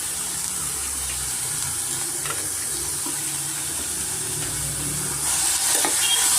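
Vegetables fry and get stirred in hot oil in a pan for a winter vegetable soup, a steady close sizzle with scraping stir strokes throughout, growing louder near the end.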